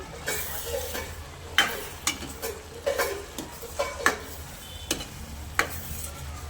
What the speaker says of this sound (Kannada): ಫ್ರೈ ಮಾಡಿರೋದ್ಮೇಲೆ ಚೆನ್ನಾಗಿ ಎರಡು ಮಿಕ್ಸ್ ಮಾಡ್ಕೊಬೇಕು